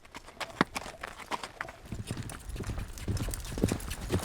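Horses walk along a desert trail in Arizona's Cochise Stronghold area, giving irregular hoof clip-clops at moderate distance against light background rustle.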